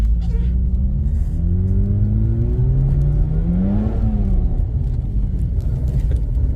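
A 2009 Mazda RX-8 rotary engine pulls steadily while driving, its drone rising in pitch as it accelerates without a downshift, then easing back; loud and close, heard from inside the car.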